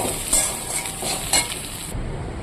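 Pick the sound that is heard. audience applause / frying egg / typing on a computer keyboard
frying egg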